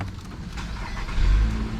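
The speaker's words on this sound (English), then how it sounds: "Let's go ahead and crank the car up." A Nissan Altima's engine turns over and catches during a brief start attempt, a low rumbling burst that swells near the end, close and fairly loud.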